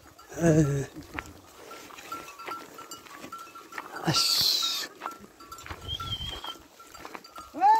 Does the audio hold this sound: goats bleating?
yes